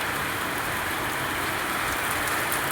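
Torrential rain during a thunderstorm, a constant loud roaring hiss of pouring water on surfaces that stays even from start to finish, with no speech.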